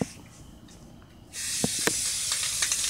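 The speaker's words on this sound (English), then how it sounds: "So I'm just spray painting along." A can of spray paint starts hissing after a quiet moment, a steady close spray onto a feathered mask continuing to the end with a few sharp clicks.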